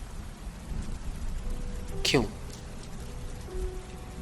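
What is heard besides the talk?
heavy rain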